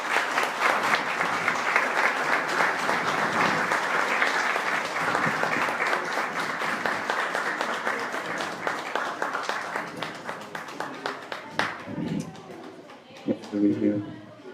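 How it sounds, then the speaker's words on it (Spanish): Applause from an evening audience for a municipal vice mayor, steady clapping that thins out toward the end, with voices and murmuring mixed in underneath. "Un aplauso, por favor, para él"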